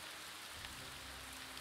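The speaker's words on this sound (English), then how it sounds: "It's raining." Steady rain hisses softly on surfaces in Battle for Middle-earth II, a faint even wash with no voices.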